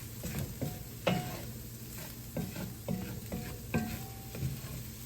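Banza rice with Italian seasoning toasting in a pan, soft sizzling under repeated scraping and stirring strokes, a rhythmic series of utensil scuffs close by with no talk.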